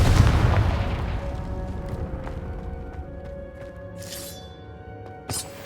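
A Confringo spell explosion from the video game Hogwarts Legacy lands as a loud booming blast that rumbles and decays over several seconds beneath faint background music, with a couple of smaller bursts near the end.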